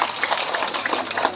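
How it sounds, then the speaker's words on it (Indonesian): A church congregation gathered outdoors for an Indonesian Independence Day flag ceremony gives a short burst of applause, with moderately loud clapping that rises and falls in quick, uneven waves. "Tepuk tangan untuk itu semua."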